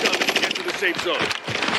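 Assault rifle fire in a video game rattles out in rapid, dense bursts, strongest early on, mixed with game voice chatter and effects at moderate loudness.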